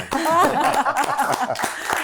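A few sharp, scattered hand claps come through under people talking and laughing nearby during an Italian poetry gathering.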